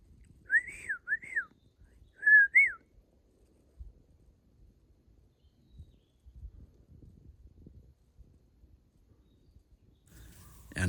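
A few short rising-and-falling whistled notes in two quick pairs, imitating a bird call during a hike in Japan, followed by quiet outdoor rustling.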